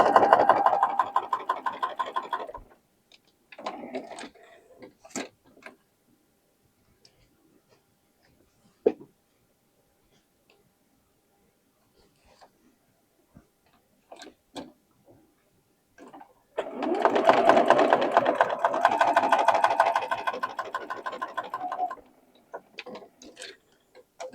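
A sewing machine stitches pieces of a modern quilt block together, running in two long bursts with short stops and scattered clicks between them, close by and with no talking.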